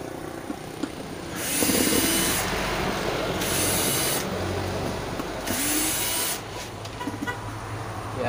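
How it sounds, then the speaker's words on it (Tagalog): A cordless screwdriver whirs in a steady, fairly loud burst lasting several seconds while it unscrews a powered bass speaker box, with quieter handling noise before and after. "Diyan lang kayo at ako ay magbubukas. Gamit itong ating wireless na dryer."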